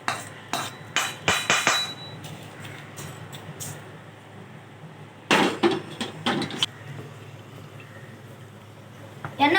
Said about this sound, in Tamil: ஒரு பாத்திரத்தில் தட்டிக்கலாம் வறுத்ததை